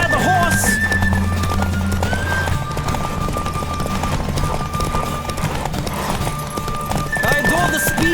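Horse galloping in a race in the video game The Witcher 3, steady rapid hoofbeats with neighs and whinnies under game music and talking voices.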